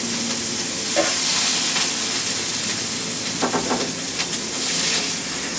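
Pork chops browning in a frying pan give off a steady, loud sizzle and hiss, with a few brief clinks and scrapes along the way.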